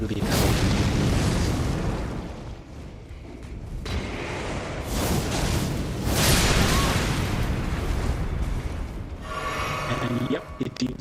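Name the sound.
explosion triggered in the video game Elden Ring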